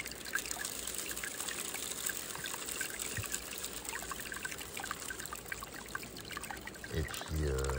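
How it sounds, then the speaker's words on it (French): Water trickles and splashes continuously as the muddy bottom of a bucket is emptied during gold panning at a river, a soft steady outdoor flow that ends in a brief louder gush. "je vais continuer de vider ce fond de seau"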